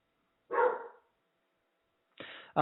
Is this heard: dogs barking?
yes